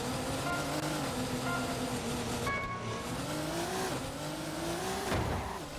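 A race car engine in Horizon Chase Turbo revs and climbs through gear shifts, its whining tone rising and dropping repeatedly, with a brief tire squeal and a steady game soundtrack underneath.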